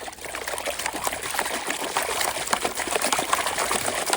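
Water sloshing and trickling in a gold prospecting pan beside the Truckee River, a steady close wash of splashing liquid throughout with no talk.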